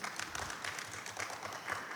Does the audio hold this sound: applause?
yes